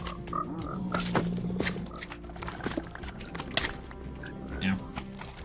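Frogs croak amid busy Minecraft game sounds, scattered short calls over a steady mix of ambient effects and footsteps, with a voice speaking over it.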